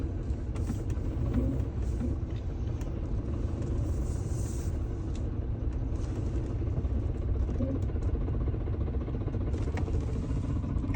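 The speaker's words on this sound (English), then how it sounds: "this old Ford sure runs pretty smooth" An old Ford truck drives with a steady low engine rumble and light road clatter, continuous and close, with no talk.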